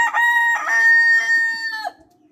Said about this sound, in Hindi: मुर्गियाँ और मुर्गियाँ